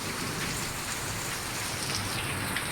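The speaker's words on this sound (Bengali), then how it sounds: "বৃষ্টি পড়ছে দেখ।" Steady rain falls on garden plants and flowering shrubs, an even close hiss of drops pattering on leaves and wet surfaces throughout, with no voices.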